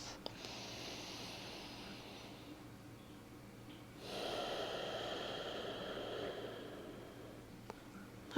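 Slow, deep breathing during a lower-body yoga stretch, with a long inhale followed by a stronger, airy exhale at close range, and a sharp sound at the very end.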